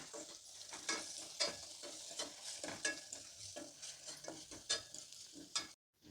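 Ground green chilli being stirred into a simmering puri betageri chutney in a pan: a soft continuous sizzle broken by repeated scraping strokes of a spoon, close and fairly quiet, ending in a brief silence.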